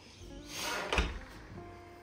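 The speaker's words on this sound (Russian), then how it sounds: "Уходим из ее палаты. И дверь закройте." A door is closed at home, a single soft wooden thud with a short slide and creak before it, quiet and close with no voices.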